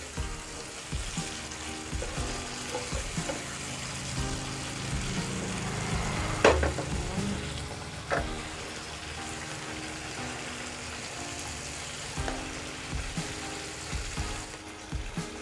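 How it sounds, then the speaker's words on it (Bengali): Fried eggplant pieces turned gently with spices in a hot pan give a low, continuous sizzle, broken by occasional soft knocks and one sharper clink of the utensil against the pan. "হালকা করে মশলার সাথে নাড়িয়ে নিব, বেশি নাড়বো না, নাহলে বেগুনগুলো ভেঙে যেতে পারে"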